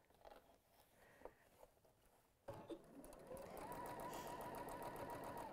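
Sewing machine stitching a steady, fast run after a quieter stretch of handling noises, the motor whirring continuously and loudly up close to the end.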